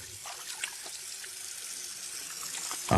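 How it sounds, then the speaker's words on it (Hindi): A bathroom tap runs in a steady, soft hiss of flowing water while someone washes their face, with a few small splashes and a louder splash at the very end; no one speaks. "और थोड़ा पानी से अपना मुंह धोने लगी।"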